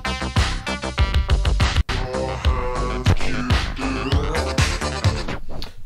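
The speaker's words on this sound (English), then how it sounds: "this is New Order's Blue Monday" A 12-inch 45 rpm vinyl single of New Order's "Blue Monday" spinning, dense electronic dance music with punchy kick drums and synths, crunchy and loud with one brief dropout.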